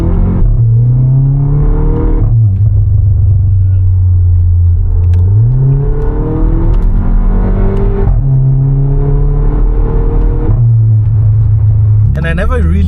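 A tuned VW Polo GTI with an aftermarket exhaust and TCU tune drives with a loud, close engine drone that rises repeatedly through the revs, each gear change dropping the pitch before it climbs again.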